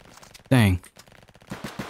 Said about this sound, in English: Trying to use a sniper, but I freaking suck.